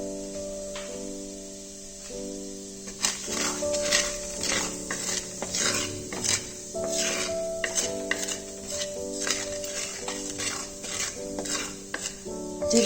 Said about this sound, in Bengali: তেলটা গরম আছে, এর মধ্যে আমি জিরেটা ফোড়নের জন্য দিয়ে দিলাম।